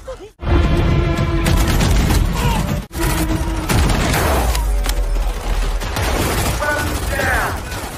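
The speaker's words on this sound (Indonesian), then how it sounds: "terjadilah baku tembak antara kelompok bersenjata itu dengan pria misterius itu" Gunfire erupts in a shootout between an armed group and a mysterious man, loud bursts and clattering shots with crashes and mechanical clicks, dense and close throughout, with some talk mixed in.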